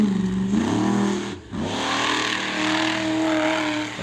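A monster truck engine revs hard at the Monster Truck Throwdown in Edmonton, a loud, close roar whose pitch sweeps up and down, dipping briefly before climbing again.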